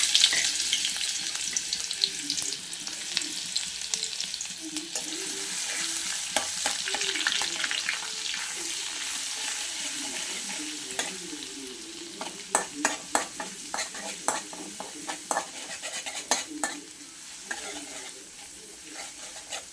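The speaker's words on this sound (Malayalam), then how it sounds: "അപ്പം എണ്ണ ചൂടായപ്പോഴത്തേക്ക് ഞാൻ ഈ പേസ്റ്റ് അങ്ങോട്ട് ഇടട്ടെ. വെളുത്തുള്ളി ഇഞ്ചി പേസ്റ്റ്." Garlic-ginger paste sizzling and frying in hot oil in a small pan, a steady loud crackle with sharper spits and pops and occasional stirring scrapes, no talking.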